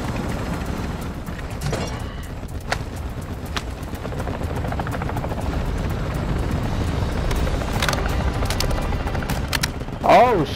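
Steady helicopter rotor drone in Call of Duty: Modern Warfare II under game gunfire bursts and clicks, with players talking over it.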